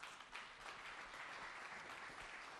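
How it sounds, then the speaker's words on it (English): An audience at a food-future panel session applauds the panelists, a continuous dense patter of many hands clapping, fairly faint and distant, sustained evenly with no voices. "let me ask you to give a round of applause to our panelists"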